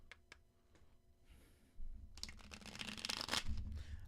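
Tarot cards are shuffled close by, starting with a few light taps and clicks, then building into a dense, brisk riffling flutter that keeps going to the end.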